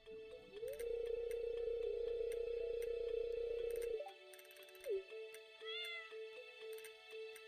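Cat meows from the Stardew Valley video game: a drawn-out tonal game sound gives way to a couple of short, clean synthetic meows amid soft interface ticks.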